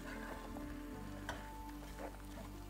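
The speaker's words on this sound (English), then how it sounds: "we're adding to it some beef tips and red onion that I'm sauteing" Beef tips and red onion saute in a pan over a campsite fire pit, a quiet, steady sizzle with a few soft stirring scrapes, close and without talk.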